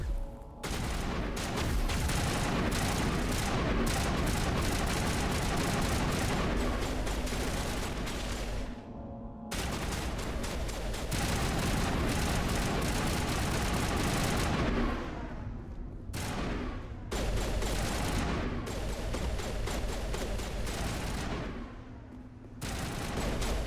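Sustained bursts of gunfire ring out in the 2021 PC game Mass Effect: Legendary Edition. The rapid, loud volleys run almost continuously, broken by a few brief pauses.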